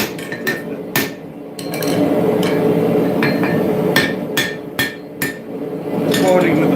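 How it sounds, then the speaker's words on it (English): A hammer forging a railroad spike axe, sharp metallic ringing blows struck in uneven clusters close by, over a steady background roar from the forge. "Forging with the flat of the hammer."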